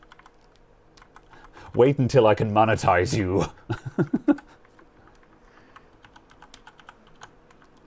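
Clacky typing on a mechanical keyboard with hot-swap switches, a sparse run of close key taps that goes on under and after a stretch of speech and a brief chuckle.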